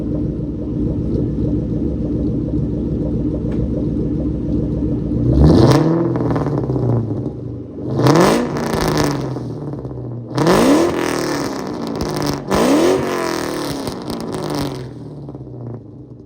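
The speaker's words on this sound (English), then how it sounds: "this car is excruciating loud. Like, this is one of the loudest vehicles I've ever had here." A loud 1999 Kenne Bell Cobra barks through its exhaust in several sharp revs over a steady idle rumble, each blip rising and falling back, with four distinct bursts spaced a couple of seconds apart.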